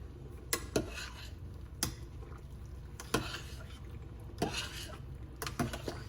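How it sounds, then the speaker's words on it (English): A whisk scraping and clinking against a pot while a roux cooks for macaroni and cheese, with sharp metallic taps at irregular intervals over a quiet background, no talking. "making sure you keep stirring or whisking it around"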